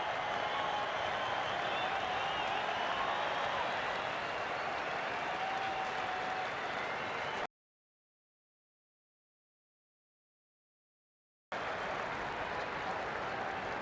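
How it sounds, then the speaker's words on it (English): Stadium crowd applauding and cheering at the Perth Test of the 2010/11 Ashes, Australia versus England: sustained, even applause that cuts out completely for a few seconds midway, then resumes. "Mitchell Johnson will get a huge cheer from the whacker."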